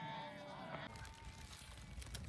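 A flock of sheep bleats at night on a mountain pasture, the calls faint and distant under low ambient noise.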